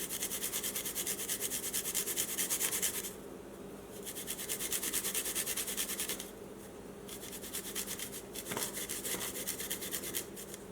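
A garlic clove grated on a zester, giving a fine, continuous scratchy rasp of quick close strokes with a couple of brief pauses, fairly quiet and without talk.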